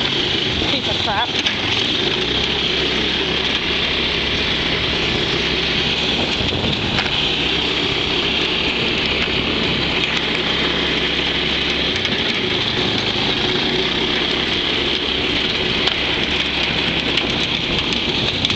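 A go kart engine started cold in snowy weather and left idling, a steady low droning rumble that runs throughout at close range, with someone talking over it.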